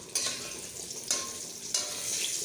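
Eggplant slices sizzle in hot oil with a steady, close, bright hiss, punctuated by a few sudden louder bursts of crackling.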